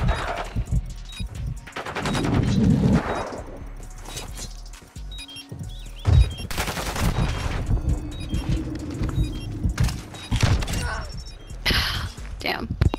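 Bursts of gunfire from a shooter video game with the Intervention sniper rifle, sharp shots and rapid automatic fire breaking through over steady talking and background game noise.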